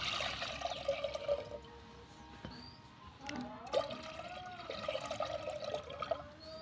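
Water poured into a pot set on a lit clay wood-fired village stove, a steady splashing pour with small gurgles and clatters, close and moderately loud, with no talking.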